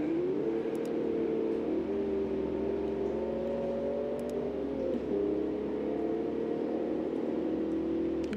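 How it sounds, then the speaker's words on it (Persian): A simulated car in a crash-physics racing video game is driven at full throttle, its engine droning loudly and rising through gears with brief dips as it shifts, steady and close throughout. "خب یه دونه ماشین رو داریم، تخت گاز میخوایم بریم."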